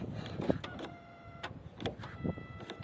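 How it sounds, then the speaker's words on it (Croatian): An old Opel car locks by remote key, giving a few short mechanical clunks and whirring actuator bursts at close range, with faint background hum between them. "To je taj zvuk za zaključavanje."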